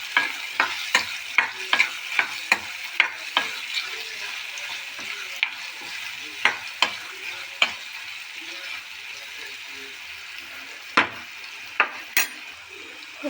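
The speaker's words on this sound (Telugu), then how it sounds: "ఇప్పుడు కొంచెం కలుపుకొని ఇందులో బీరకాయ ముక్కలు యాడ్ చేసుకోవాలి. ఇప్పుడు కలుపుకోవాలి." Ridge gourd pieces frying in a pan, stirred repeatedly, with frequent sharp scrapes and clicks of a spoon against the pan over a continuous soft sizzle, close and moderately loud, in bursts with short pauses, with no talking.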